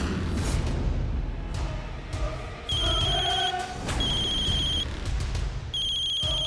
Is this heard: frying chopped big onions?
no